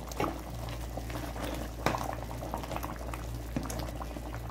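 Arabian shorba soup bubbles on a medium flame, a steady low rolling boil with small pops and occasional bubble bursts, close and moderately quiet, no talking.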